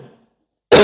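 A single sharp cough bursts in abruptly at the end after a brief trailing sound and near silence, close and loud.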